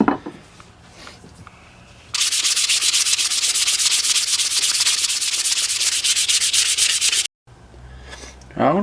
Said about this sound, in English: Alright, get a little bit of sandpaper.